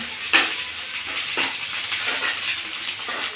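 Onion and ginger browning in a pan sizzle steadily, with soft stirring scrapes rising and falling through the short stretch.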